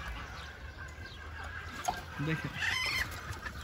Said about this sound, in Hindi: ये देसी मुर्गी है